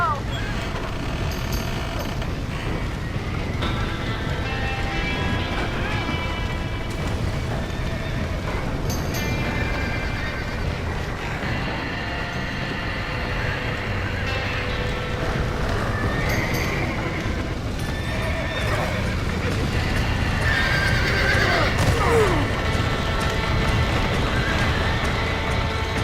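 Horses trapped during a fire in the Red Dead Redemption video game neigh and whinny repeatedly while hooves clatter, all set against a constant loud background din.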